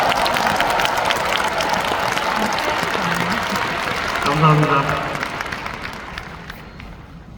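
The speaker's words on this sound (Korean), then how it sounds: "여러분 박수 좀 보내주세요" A large crowd of about thirteen thousand in an arena applauds steadily, a broad wash of clapping that fades out toward the end while someone speaks briefly over it.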